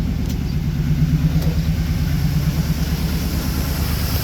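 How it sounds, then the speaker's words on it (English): A truck engine idles steadily in the rain, a low continuous rumble with a faint cam and lifter knock ticking beneath it, close and alone with no talk. "a cam and lifter knock sound."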